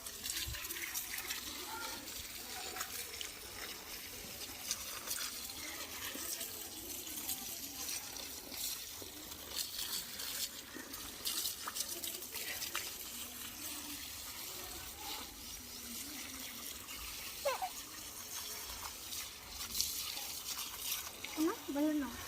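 Water flows and splashes steadily while plants are watered at a farmhouse, a continuous gushing rush close by with people talking over it throughout.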